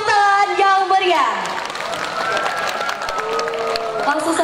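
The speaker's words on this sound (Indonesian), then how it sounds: "Tepuk tangan yang meriah." Audience applause for the winners of a religious-speech contest, a roomful of clapping building into a steady patter after a loud patch of singing or amplified voices, with speech and crowd noise mixed in.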